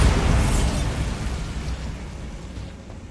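A Bombarda explosion spell in Hogwarts Legacy bursts as one loud boom at the start, then fades into a rumbling, crackling tail over about three seconds.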